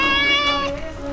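An angry cat lets out one close, loud, drawn-out meow that wavers in pitch and trails off, heard alone.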